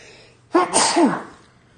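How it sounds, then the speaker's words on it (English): One loud sneeze up close, a sharp hissing burst with a voiced catch, fading out quickly. "And I have to sneeze."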